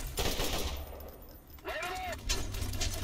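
Automatic gunfire bursts from the Borderlands video game, loud and continuous across most of the moment, with a brief dip in the middle and a rising whistling effect before the firing resumes.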